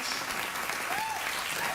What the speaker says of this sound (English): Thank you very much for that warm entrance applause